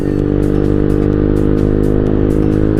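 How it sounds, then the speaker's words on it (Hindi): Loud, close exhaust roar from a modified TVS Ntorq scooter while riding in traffic, a steady throbbing engine drone with rapid pulsing firing and rattly clatter, no talk. "एग्जॉस्ट की साउंड सुन रहे हो भाई, कमेंट करना जिसको पसंद आई।"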